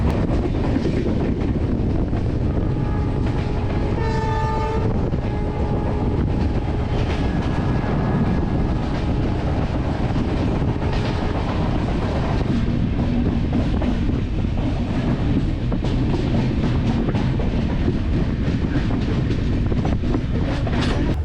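Konkan Kanya Express train running on the Konkan Railway during the monsoon: a loud, steady rolling rumble with rhythmic clickety-clack and wind buffeting the microphone, and a brief tonal horn-like sound early on, with no talking.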